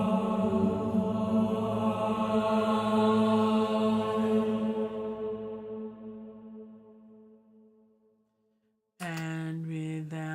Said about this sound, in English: and this is the Voices of War, which at the moment, with just going through reverb, sounds like this.